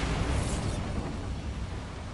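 Bombarda spell explosion in Hogwarts Legacy: a loud, deep booming blast at the start that rolls off into a sustained rumbling decay.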